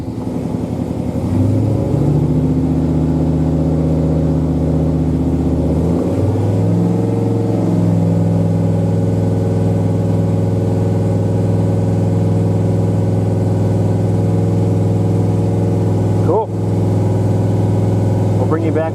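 A car engine with a freshly installed cam held at raised RPM for break-in, a loud, steady droning hum that climbs in pitch early on and then holds high and even, close and continuous throughout.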